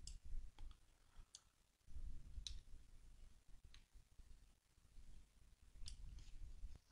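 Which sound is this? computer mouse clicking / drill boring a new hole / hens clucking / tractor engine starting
computer mouse clicking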